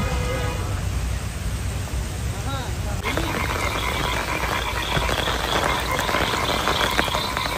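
Rain falls on a bridge at Beribadh, Mirpur, making a dense, even hiss that grows heavier partway through. People talk over the downpour.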